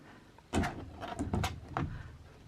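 Doors of an assembled yarn storage cabinet being opened and closed, a sharp close knock followed by several lighter bumps and clicks over about two seconds.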